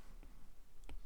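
Calculator buttons pressed during a geometry lesson, giving two short, quiet clicks about two-thirds of a second apart against a soft room hush.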